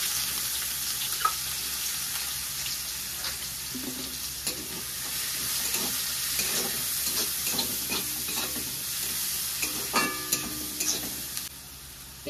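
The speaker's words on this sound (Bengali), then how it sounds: "ওই কড়াইয়ের মধ্যেই তেল দিয়ে দিয়েছি, তেল গরম হয়ে গেছে। দিয়ে দিচ্ছি পেঁয়াজ কুচি।" Chopped onions sizzle in hot oil in a wok, a continuous close frying crackle broken by scraping stirs and sharp spits as the onions are cooked for a stuffed pointed gourd filling.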